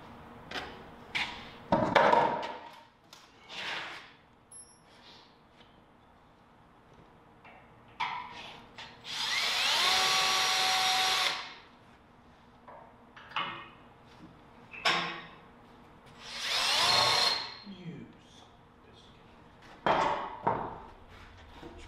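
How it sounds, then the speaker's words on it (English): A small cordless drill works on a boat trailer suspension build, giving two short whirring bursts between scattered clicks, knocks and handling noises. "See if my little cordless drill can handle it."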